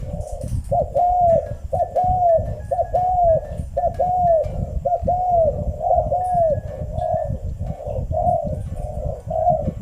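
A spotted dove coos over and over in steady repeated phrases, loud and close, with faint birdsong in the background.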